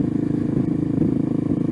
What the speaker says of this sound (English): This sounds like a big bike